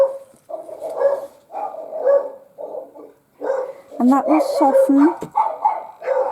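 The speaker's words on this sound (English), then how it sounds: "sorry about the dogs" Several dogs bark intermittently in the background, some yips and bursts clustering midway, while someone talks steadily over them during a quiet indoor watercolor painting session.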